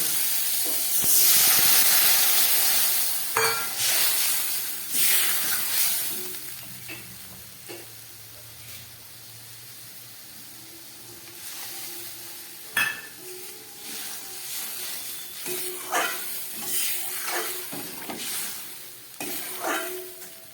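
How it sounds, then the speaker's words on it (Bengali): Bhola fish curry with aubergine bubbles and hisses in a pan, a continuous simmering sizzle broken by intermittent clinks and scrapes of a utensil against the metal, close and fairly loud. "মাছের ঝোলটা ফুটে উঠেছে, বেগুনটাও অনেকটা সিদ্ধ হয়ে গেছে।"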